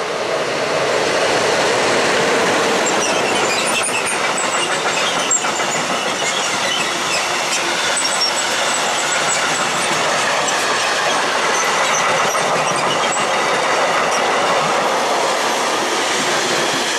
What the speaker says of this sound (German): der Gegenzug der Bayernbahn Richtung Gunzenhausen